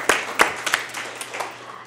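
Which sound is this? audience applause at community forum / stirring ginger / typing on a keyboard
audience applause at community forum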